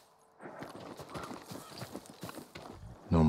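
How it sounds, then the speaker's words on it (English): A farm horse walks in Ghost of Tsushima, its hooves giving a steady, fairly close clip-clop rhythm that ends in a sudden louder thump. "I want to look at his horse. A farm horse."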